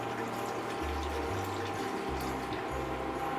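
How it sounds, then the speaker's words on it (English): Cabernet Sauvignon being poured into a pot of figs, a continuous steady liquid pour lasting a few seconds, close and soft. "So to our figs here, I'm gonna add the red wine."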